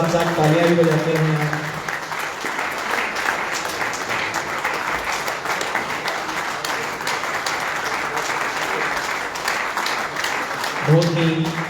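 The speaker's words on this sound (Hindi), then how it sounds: "रिकॉर्डिंग के साथ साथ तालियां भी बजाते हैं।" Audience clapping at a book launch, sustained applause filling most of the moment, with a speaker's voice heard briefly at the start and again at the end.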